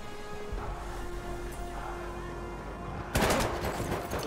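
A shotgun blast and gas grenade in the Battlefield 1 video game, with a steady rumble of battle noise giving way to a loud burst of sharp gunfire near the end.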